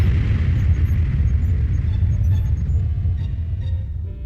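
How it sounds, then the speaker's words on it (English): A loud, deep explosion rumbles and roars continuously, heavy low boom slowly fading over a few seconds, with no talking. "That's an explosion."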